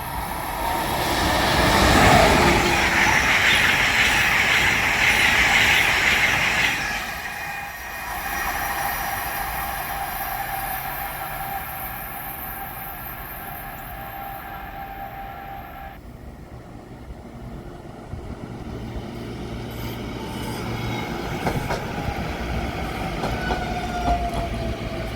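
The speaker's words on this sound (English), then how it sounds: "So this is the last train for my hour of train watching." A train on the Northeast Corridor rumbles past on the tracks, loud at first with a squealing metallic whine, then fading into a steady distant rolling drone.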